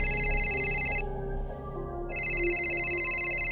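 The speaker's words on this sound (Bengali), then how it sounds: "সম্বিত ফিরল, ফোনটা বেজে ওঠায়" A telephone rings in a tonal electronic pattern, two bursts separated by a short pause, over a low steady background hum.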